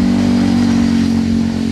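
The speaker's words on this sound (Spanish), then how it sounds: "el escape es demasiado rumoroso" A Sanela RZ3R motorcycle exhaust drones loudly and steadily up close, a low rumbling engine note holding nearly constant with no voices.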